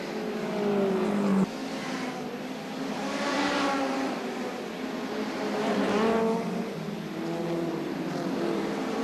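Hot rod race cars circling an oval track at the 1978 World Final, engines droning and swelling as several cars pass by in waves, with rising and falling pitch at moderate distance.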